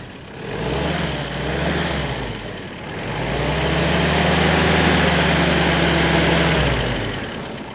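A WW2 Willys Jeep engine with a Solex carburetor runs close by, its loud low rumble rising and falling in revs, then holding a steady, throbbing idle.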